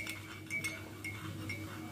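A spoon stirring vinegar into milk in a glass, giving a few light, faint clinks spaced roughly half a second apart over a low steady hum.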